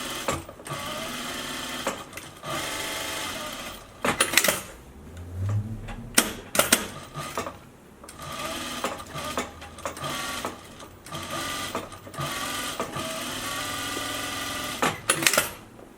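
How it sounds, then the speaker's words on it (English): A sewing machine runs in bursts, stitching a seam on a fabric face mask, with a rapid close mechanical chatter broken by short pauses and handling noises between runs. "we want to have some stitch right here to fold the seam down"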